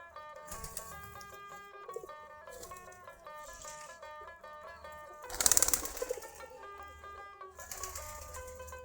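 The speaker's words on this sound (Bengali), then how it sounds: "সবগুলো আমাদের দেশি জাতের কবুতর, দেশি গিরিবাজ কবুতর বলে, গোল্লা কবুতর বলে।" Local Giribaz pigeons coo softly and repeatedly at close range. A short burst of wing flapping comes midway, all at low level.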